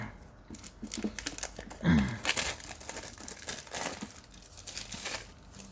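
Sealed trading card booster packaging, a decorated tin box set, torn open and crinkled by hand: crisp close crumpling and tearing rustles, with a sharper rip near the middle, no talking.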